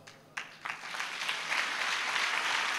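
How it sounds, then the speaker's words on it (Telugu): Audience applause at a church gathering starts with a few scattered claps, then swells into steady, fairly soft clapping from a crowd that continues to the end. "మరి ఈ చప్పట్లు ఆయనకి ఇవ్వాలి కదా."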